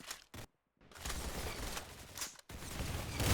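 Bursts of rapid gunfire in a Roblox shooting game, dense crackling volleys with a brief silent gap, then continuous firing resuming loud and close.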